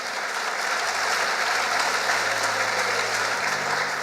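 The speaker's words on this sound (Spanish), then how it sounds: "un aplauso al Señor" A church congregation clapping for the Lord during a sermon, a dense, continuous wash of many hands applauding at moderate volume with no speech on top.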